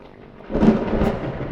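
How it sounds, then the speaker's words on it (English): A deep rumble of thunder rolls in as a storm brews, a theatre sound effect from a staging of The Tempest, swelling from a faint murmur into a loud, sustained roll that carries on to the end with no voices. "As he works, a storm brews"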